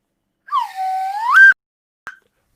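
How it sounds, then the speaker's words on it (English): A single long whistle rises and swoops upward, followed after a short pause by a brief sharp chirp of the same whistle, loud and close with no talking. "the whistle"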